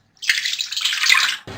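About a glass and a half of water is poured into a cooking pot while making a winter chicken soup: a steady, close splashing stream that runs for over a second before stopping.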